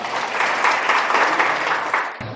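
An audience claps for two performers in a brisk burst of applause, close and lively, cut off abruptly just before the end.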